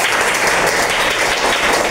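Classroom audience applauding a student's correct answer about Rigvedic deities, a dense, steady burst of clapping from many hands that stays loud for the whole stretch with no talk over it.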